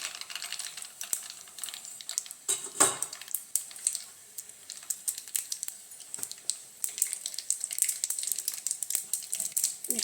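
Mustard seeds spluttering and popping in hot oil while tempering for dosa, a dense run of sharp crackles and sizzling pops that swell and thin out close by, with no talking.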